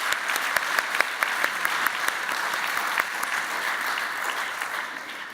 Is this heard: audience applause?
yes